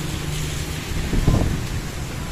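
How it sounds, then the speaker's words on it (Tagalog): Heavy rain falling outdoors, a dense broadband wash with wind-like rumble. One brief louder gust or splash stands out in the middle, and nobody speaks. "Bigla na nag-ulan."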